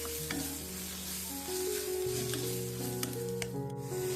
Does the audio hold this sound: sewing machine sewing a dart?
no